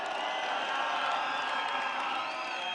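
Large outdoor crowd at an opposition political rally in Mai Mahiu, Naivasha, cheering, whooping and applauding in a loud continuous roar, with scattered shouts rising over the dense wash of noise.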